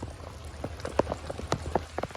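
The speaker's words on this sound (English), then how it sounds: "Actively raining" Rain falls on a rock climbing wall during a rope solo of The Seal, an irregular patter of close, crisp drops over a low rumble of wind.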